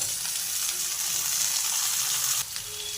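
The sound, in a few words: potatoes and elephant foot yam frying in a pan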